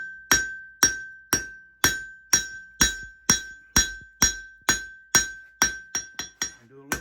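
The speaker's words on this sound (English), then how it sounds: "Now I'm going to go to the hammer face" Hammer blows ring out on a steel knife blade being forged, a steady rhythm of about a dozen sharp metallic strikes, quickening toward the end.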